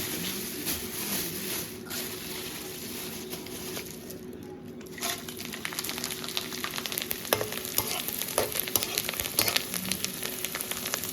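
Food sizzles and crackles in hot oil, a steady frying hiss with scattered pops and spatters, close and fairly quiet, with no talking.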